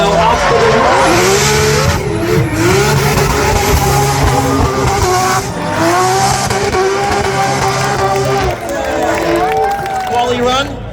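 A drift car on Valino tires skids through a qualifying run at Drift Masters Riga, its engine roaring and tires squealing loudly and continuously under an excited commentator's voice.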